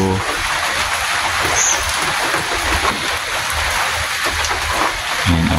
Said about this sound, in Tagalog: Kahit po nag-uulan